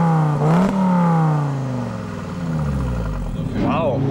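An Audi TT RS engine revving up and settling back, a loud throaty tone sweeping in pitch with a second rising rev near the end, heard from close by.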